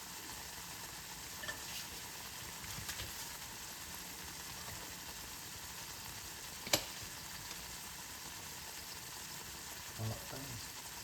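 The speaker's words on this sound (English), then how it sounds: "Now that the oil is hotter, it's gonna fry quicker." Flitscuits frying in hot oil, a steady, faint hiss and crackle of sizzling with a few brief ticks and pops scattered through it, no talk.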